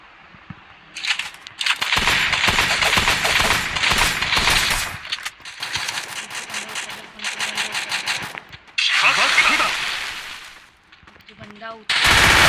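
Shotgun fire in the Free Fire battle royale game comes as rapid, loud bursts of repeated blasts with short gaps between volleys, with faint game sounds in between.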